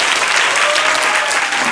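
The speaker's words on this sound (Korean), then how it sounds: "우리 박수로 한번 기뻐했습니다." Congregation in a church youth service giving dense, loud applause, a steady wash of many hands clapping close by throughout.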